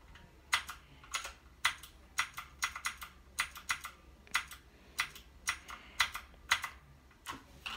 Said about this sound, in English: This is actually my first mechanical keyboard, my first mechanical gaming keyboard that I've ever had.